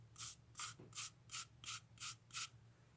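A gua sha tool scrapes across skin in seven even, rhythmic strokes. Each stroke gives a soft, close, hissing rasp.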